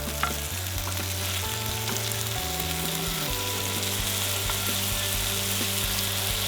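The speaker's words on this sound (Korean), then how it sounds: "육즙이 빠져나가지 않게 중불에 굽다가 약불로 줄여줍니다" Tteok galbi (Korean grilled short rib) patties sizzle and fry steadily in a pan over medium-to-low heat, a continuous close crackle with no talk.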